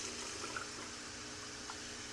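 Water is poured into a pan of sushi rice, a soft, steady splashing pour lasting a couple of seconds, close and fairly quiet.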